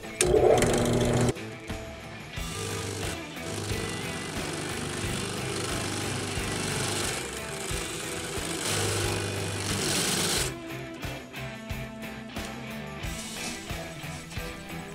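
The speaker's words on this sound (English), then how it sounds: "We're going to start drilling 1-inch holes down the length of it on 4 sides at least." A power drill boring 1-inch holes in a pipe whirs and grinds steadily for several seconds, its motor droning under load, then stops and restarts in shorter bursts near the end.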